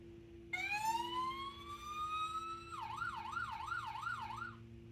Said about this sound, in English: Can you make the fire engine sound?